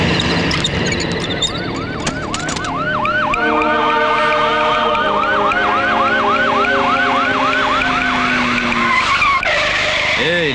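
Ambulance siren in a minister's vehicle convoy wails in a steady repeating up-down sweep, loud and close, over continuous traffic noise, fading near the end.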